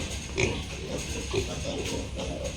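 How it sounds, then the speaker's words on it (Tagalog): A pig on a small farm grunts in a few short, low bursts close by, spaced irregularly over steady background noise. "Amo ning baboy ni Ma'am Rina?"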